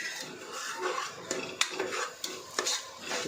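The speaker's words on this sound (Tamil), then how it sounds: "இப்போ நம்ம எடுத்து வச்ச மசாலாவை தட்டிடுறோம்." Ground masala tipped into a pan of sautéed ginger and garlic for chicken gravy, then stirred: close scraping and clinks of a spoon against the pan, with a light sizzle underneath.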